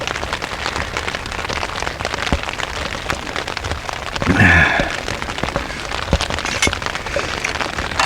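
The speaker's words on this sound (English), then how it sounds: "it is still raining" Steady rain pattering on a tent nearby at a tarp campsite, dense irregular drops with a brief louder rustle partway through.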